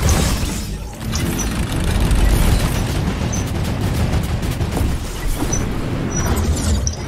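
Turrets fire in a video game as a dense, loud, continuous barrage of booming gunfire that runs without pause and carries no talk.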